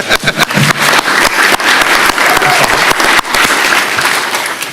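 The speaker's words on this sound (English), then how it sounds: "You may applause." Loud, sustained applause at a county commission board meeting, honoring a Little League All-Stars team of 9 to 11 year olds who won a state championship, with steady dense clapping filling the room throughout.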